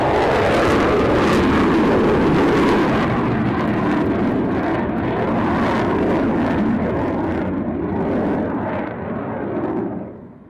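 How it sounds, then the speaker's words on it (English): A MiG-29 fighter jet roars past, filling the air with a loud, broad rumble and a rushing high hiss that holds steady for several seconds, then slowly fades away near the end. "it's a cracker, isn't it? The MiG-29"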